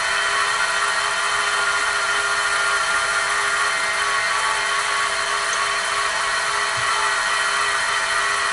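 A mini milling machine traverses along its X-axis with a steady, loud, high motor whine and grinding hum, continuous and unbroken from start to finish with no talk over it.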